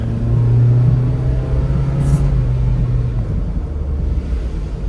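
A Daihatsu Atrai 7 minivan's engine hums low and loud up close, its drone rising and holding as it accelerates, with road rumble steady underneath.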